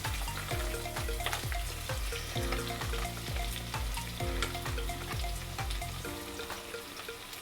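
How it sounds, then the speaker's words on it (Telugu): Onions and green chillies frying in oil in a pan for vegetable biryani give a steady, close sizzle that runs throughout, over a rhythmic musical backing. "ఉల్లిపాయలు, పచ్చిమిరపకాయలు కొద్దిగా దోరగా వేగినాయి కదండి."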